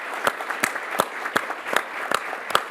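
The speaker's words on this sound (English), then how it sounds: "can I just have you all give a round of applause to the staff of the three agencies" A conference audience claps for banking agency staff, with a handful of distinct hand claps landing in a fairly even rhythm, close and moderately loud against a quiet room.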